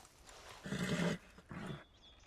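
A horse in the Red Dead Redemption 2 video game gives a couple of low, rough whinnying snorts, two short bursts at moderate distance in a quiet game scene.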